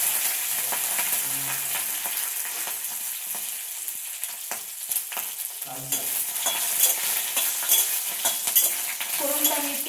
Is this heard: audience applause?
no